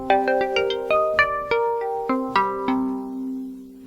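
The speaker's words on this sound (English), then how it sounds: "So it's just a simple plucked sound," A simple, very percussive plucked synth patch from the Yoshimi softsynth, effects removed, plays a short melodic run of distinct notes that each strike sharply and ring out, the last one decaying alone.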